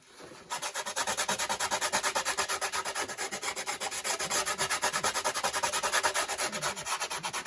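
A curved wooden archtop guitar top is sanded by hand with a strip of belt sander abrasive on a cedar block, giving a close, steady rasping scrub in quick even back-and-forth strokes, with no voices.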